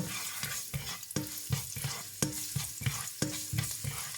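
Spaghetti being cooked in a pan, with a utensil stirring in regular scraping strokes over a steady sizzle, close and fairly loud, with no talking.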